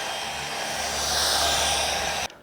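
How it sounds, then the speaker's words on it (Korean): An LG CordZero A9 cordless vacuum cleaner with a power drive floor nozzle runs with a steady, loud whirring roar that cuts off abruptly near the end. "파워 드라이브 마루 흡입구를 이용해서 마루 위를 청소를 한번 해볼 거예요."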